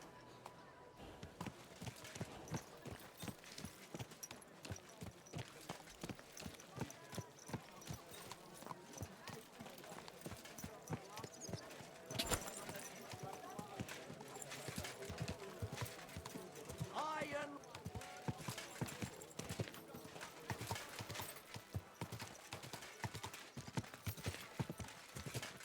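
A horse's hooves clip-clop steadily and rhythmically throughout, ridden in the medieval video game Kingdom Come Deliverance 2, with voices talking over the busy hoofbeats.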